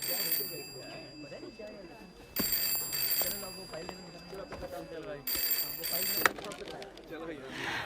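An office telephone rings in repeated bursts, sounding twice clearly over an indoor scene, with people talking between and under the rings.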